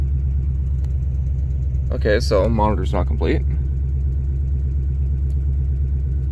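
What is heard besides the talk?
V8 Ford Ranger engine running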